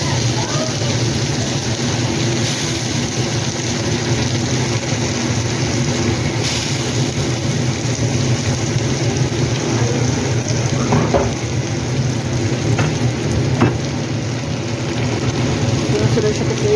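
Garlic and panch phoron (five-spice seeds) frying in a little oil in a wok, giving a steady, dense crackling sizzle for the whole stretch with faint kitchen background and occasional soft knocks.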